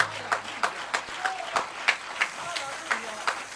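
A church congregation at a Sunday service claps along in a steady, rhythmic beat, the sharp claps repeating roughly every third of a second beneath voices in the room.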